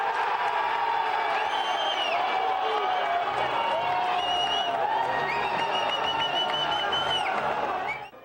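Football crowd at a Rio Branco home match against Cascavel cheering a goal in the rain: a steady, loud roar of many voices with whoops and rising shouts, sustained for about eight seconds before cutting off.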